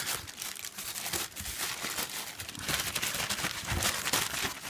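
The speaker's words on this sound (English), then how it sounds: "Very hard to unwrap everything." Plastic and paper packaging from a retro console accessory being unwrapped, a steady run of close crinkling, crumpling and tearing that lasts the whole stretch, with no talk over it.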